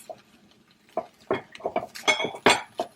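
Ground beef with diced onion, jalapeno and cilantro being stirred in a pan, a quick run of metallic scrapes and clinks from a utensil against the pan, close and fairly quiet.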